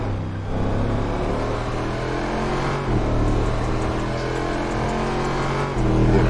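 Cars racing in a racing video game, with a continuous loud engine roar and revving that swells at a few points, steady and close, without talk.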